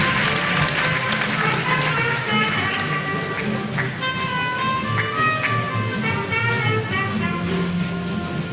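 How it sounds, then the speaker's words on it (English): Audience applauding at a university convocation ceremony, a steady crowd clapping that fills the hall, with voices mixed in beneath. "Another round of applause for the Dean Faculty of Education"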